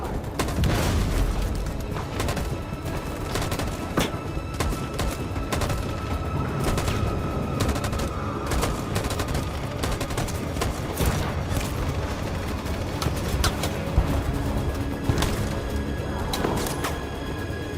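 Dense gunfire in Detroit Become Human, with sharp overlapping shots and booms crackling continuously in a heavy fusillade and no pauses.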